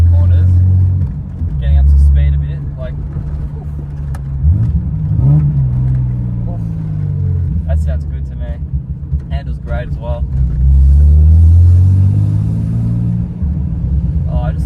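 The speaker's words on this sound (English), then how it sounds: "love the sound of this engine so much" A car engine hums and rises in pitch as it revs while driving, with steady road rumble underneath and someone talking over it.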